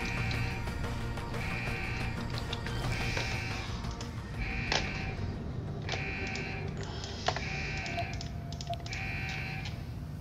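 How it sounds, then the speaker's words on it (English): Video game alarm in Deus Ex: Human Revolution, an electronic beeping tone repeating at a steady rhythm about every second and a half, with faint clicks and background game ambience. "Shut off this alarm."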